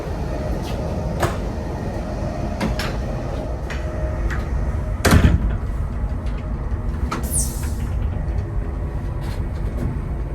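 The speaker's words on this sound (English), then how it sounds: "let's open the door." Clicks and a heavy clunk of a toilet door opening on a new international train over the steady rumble of the moving train, with a short sliding whoosh afterward.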